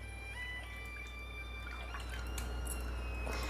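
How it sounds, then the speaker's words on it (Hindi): Water is poured from a cup into a pot of kanji, the Odia fermented rice offering made as Rathyatra mahaprasad, a steady trickle and splash with small drips under a low constant hum, no talking. "मैं 1 कप पानी दे रही हूँ"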